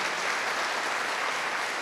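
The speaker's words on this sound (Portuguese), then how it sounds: "esses aplausos de vocês são para Deus" A crowd claps steadily throughout, a dense, even wash of applause heard from some distance.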